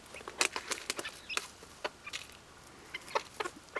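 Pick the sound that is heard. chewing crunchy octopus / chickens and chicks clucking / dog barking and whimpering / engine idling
chickens and chicks clucking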